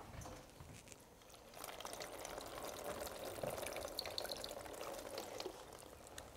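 River water flowing and turning wheels, a constant rushing, splashing wash that swells slightly after the first second and holds steady at a moderate, close level.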